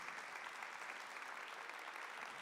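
An audience applauding during a Portuguese-language sermon on John the Baptist, dense, even clapping from many hands that stays steady and moderately distant from start to finish.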